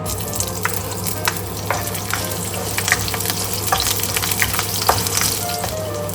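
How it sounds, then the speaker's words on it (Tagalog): Onions frying in a little oil in a pan, a close, steady sizzle with light stirring scrapes and small pops throughout, no talking. "Maglagay ako ng konting, mantika. Ay, sibuyas, lagay na natin."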